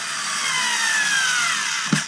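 A Black & Decker cordless screwdriver runs with a steady high whine for about two seconds, then stops abruptly as the trigger is released, close and loud with no talk.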